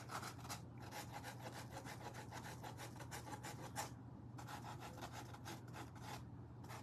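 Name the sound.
sanding or rubbing a Christmas ornament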